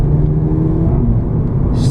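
Warmed-up VW Polo GTI with a DSG gearbox and its resonator still fitted, a steady low engine and exhaust drone heard from inside the car, loud and close, with a brief higher-pitched hiss at the very end.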